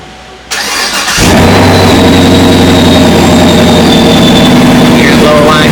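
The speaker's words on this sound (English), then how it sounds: "the first time you hit the start button, it does that. It cranks for a split second and then stops" A 2022 Chevrolet Camaro with an LT1 V8 and Procharger supercharger gives a brief starter crank, then catches on the next try and settles into a loud, steady, rumbling idle up close.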